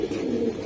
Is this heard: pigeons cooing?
yes